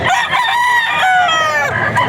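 Golden Boy rooster crowing loudly and close at a Bocaue, Bulacan auction market, one drawn-out crow with clucking chickens around it.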